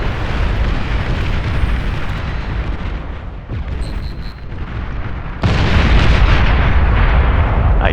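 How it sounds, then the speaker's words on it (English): A nuclear missile detonates in the strategy game Beyond All Reason, a loud sustained rumbling roar that swells into a heavier, louder blast partway through and keeps booming to the end. "I blind fired that nuke. But whatever I hit, I guarantee you it was vital."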